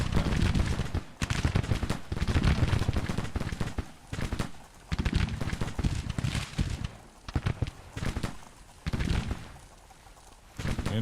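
Dense, rolling volleys of Civil War musket and cannon fire in the strategy game Grand Tactician, loud and continuous with brief lulls between crackling bursts, overlapping like massed infantry firing.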